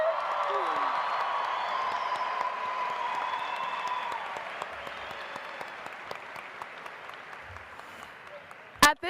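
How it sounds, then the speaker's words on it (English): Sustained applause and cheering from a large crowd at a 2019 Cedar Park High School graduation ceremony, a dense steady wash of clapping with whoops, gradually thinning toward the end before a sharp loud burst. "How about another big round of applause for our 2019 graduates?"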